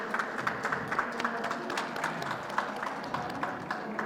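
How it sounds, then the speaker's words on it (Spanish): An audience gives welcoming applause at a talk on digital rights, a steady patter of many hands clapping at moderate distance for a few seconds. "Les damos con un aplauso la bienvenida"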